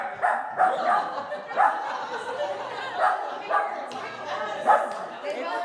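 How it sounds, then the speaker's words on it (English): A dog barks repeatedly from a television, a rhythmic run of yips and bow-wows with voices mixed in. "It's the dog. It's the dog on the TV."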